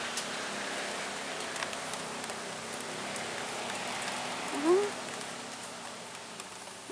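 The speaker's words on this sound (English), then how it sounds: "feeling some raindrops here" Light rain falls over a garden after a storm, a soft, steady, faint patter of raindrops that stays even throughout with one brief louder tap.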